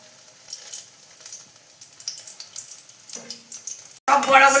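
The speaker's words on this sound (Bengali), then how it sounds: "সব বড়াগুলো ভাজা হয়ে গেল।" Lentil fritters (bora) hiss and crackle quietly in a frying pan, a faint patchy sizzle that ends in a short silence before a sudden louder burst of frying.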